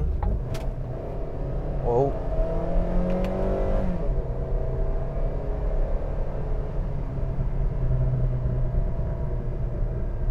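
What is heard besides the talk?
Honda Civic 2.0 engine revving in S mode with paddle shifters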